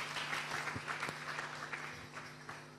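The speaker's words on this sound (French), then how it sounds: "Acclamons très fort pour toi" A church congregation claps together at a pastor's sermon, a dense wash of hand claps filling the room at moderate distance, steady and brief without any voices.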